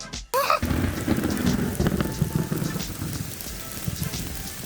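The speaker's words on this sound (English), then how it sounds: "can you imagine what it would be like to hear and experience rain for the very first time?" Steady rain patters and hisses on surfaces, with scattered louder drops and a faint low rumble beneath.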